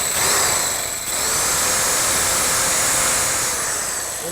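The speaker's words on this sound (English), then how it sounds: "Even with this lightweight drill, we can get in, get through the set screw, remove the cylinder from the door" A lightweight power drill bores into the set screws of a door lock cylinder, a loud continuous high-pitched whine that dips for a moment near one second before holding steady.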